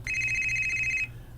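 A mobile phone ringtone plays a steady, bright electronic tone for about a second, loud and close, then cuts off abruptly, leaving a low background hum and no speech.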